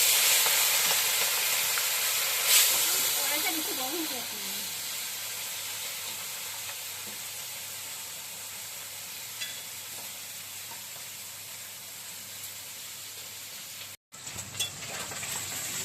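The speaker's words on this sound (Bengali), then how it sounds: "তেলটা গরম হয়ে গেছে, এবার মাছগুলো দিয়ে দিচ্ছি।" Small pond fish hiss and sizzle in hot mustard oil in a wok, a steady spitting crackle with a sharper flare early on and a few faint utensil taps, fading slightly over time.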